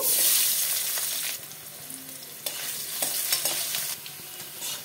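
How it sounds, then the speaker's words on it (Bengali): Potatoes frying in oil left over from frying katla fish, a loud crackling sizzle at first that settles lower, broken by repeated stirring scrapes and clinks. "এই তেলে আমি আলুটা ভেজে নেব"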